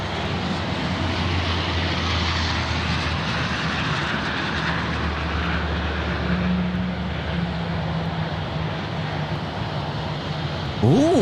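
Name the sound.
Dash 8 turboprop aircraft passing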